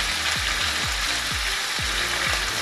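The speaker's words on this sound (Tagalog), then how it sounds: "Prito-prito muna natin yan." Steady, loud sizzling of pork frying in hot oil, with a few soft regular scraping or stirring knocks underneath.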